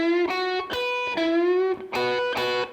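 Distorted electric guitar playing a short phrase from a solo, a few picked notes with one sustained note bent slightly upward, close and clear with no voice over it.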